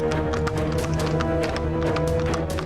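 Horse hooves clip-clop in a steady running rhythm as a horse-drawn carriage moves along, loud and close, with a constant backdrop of ambient drama music and no talking.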